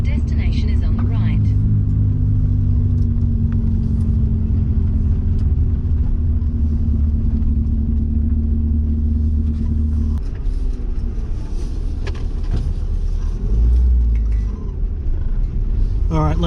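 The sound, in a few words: Mazda 323 Familia turbo engine with dump pipe fitted, driving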